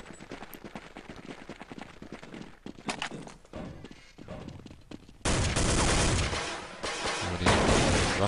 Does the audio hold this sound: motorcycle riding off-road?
no